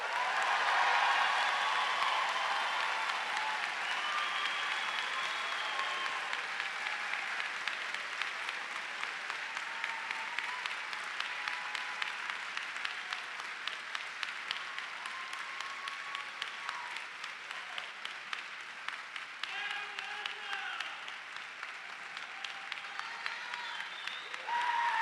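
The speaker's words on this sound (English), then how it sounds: "Please applaud the class of 2026." Sustained applause from a large audience of family and friends at a law school commencement ceremony in Carlisle, honoring the graduating Class of 2026; dense steady clapping fills the hall for the full stretch, with a few voices calling out above it.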